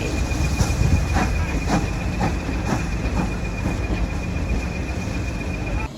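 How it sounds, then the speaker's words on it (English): A steam train on the Epping-Ongar Railway rolls along steadily with a loud, continuous rumble and regular rhythmic chuffs or clacks, heard close by. "Many people were having their first ride on a steam train."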